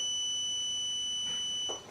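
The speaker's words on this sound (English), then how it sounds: "Simply press the alarm button and an alarm will sound." A lift's internal alarm sounds after the alarm button is pressed: a steady, continuous high-pitched electronic tone, fairly loud and alone, cutting off just before the end.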